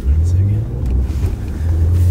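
Audi S4 accelerating with its engine note amplified through the cabin, a deep droning rumble heard from inside, dipping midway and then returning strong, with people talking over it.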